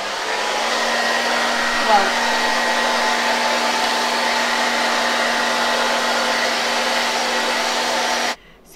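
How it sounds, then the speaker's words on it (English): A hair dryer blows steadily with a constant whirring hum, close and loud, cutting off abruptly near the end. "next step is taking the blow dryer and we're gonna dry it thoroughly."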